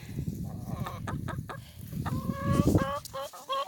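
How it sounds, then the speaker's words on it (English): Delaware and golden laced Wyandotte chickens in a backyard flock, clucking and giving short rising calls, several birds close by with scratching and rustling underneath. "So these are our Delawares that we got from Jim and Renda with Hardiness Approach, and the little golden lace Wyandotte"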